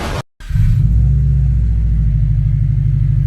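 A Subaru WRX fitted with a new HKS blow-off valve cranks briefly after a short silence, then settles into a loud, steady low rumbling idle close by.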